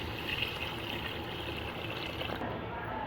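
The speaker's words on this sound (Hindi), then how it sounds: "अब हम इसमें वाटर ऐड करेंगे।" Water poured into a pot of browned beef for beef nihari, a steady close-up rush and trickle of liquid that continues throughout.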